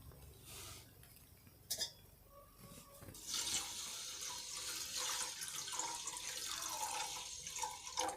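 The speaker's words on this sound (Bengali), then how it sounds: "ধোয়া চালটি কড়ার উপরে দিয়েছি এবং ওতে আমি জল দিয়ে এটিকে আমি সেদ্ধ করব" Water is poured from a vessel onto washed Gobindobhog rice in a kadai, a steady rushing splash that swells after a few seconds and runs on close by, following a faint knock and some quiet handling.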